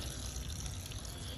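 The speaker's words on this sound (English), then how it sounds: "Let the hose run in there and let it drain." Water runs from a hose into a container of crawfish being rinsed clean. A steady splashing pour goes on without a break, faint and close, with no talking.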